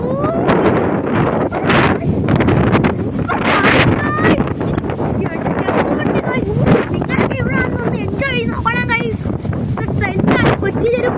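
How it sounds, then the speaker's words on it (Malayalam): Strong wind buffets the microphone on a short boat trip in Kochi, a loud, continuous rushing roar that persists throughout while people talk over it. "നല്ല കാറ്റ് കേട്ടോ."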